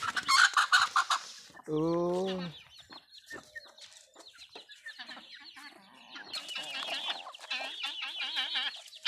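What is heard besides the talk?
chickens clucking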